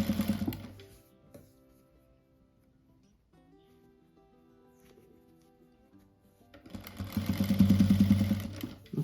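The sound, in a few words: sewing machine stitching fabric strips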